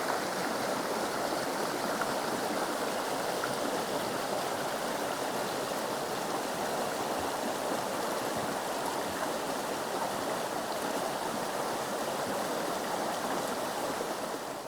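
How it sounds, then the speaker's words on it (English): Water of the Santa Margarita River rushing past a trail river crossing, a steady dense hiss of flowing stream, close and even throughout with no voices. "This is river crossing 10,"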